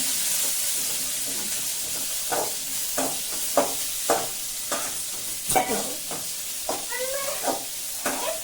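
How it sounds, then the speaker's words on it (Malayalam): Sliced onion and green chillies sizzle in hot oil in a pan, with a steady frying hiss broken by repeated scraping knocks of a spoon as they are stirred, close and clear. "സവോളയും പച്ചമുളകും നമുക്ക് ഒരുമിച്ചിടാം."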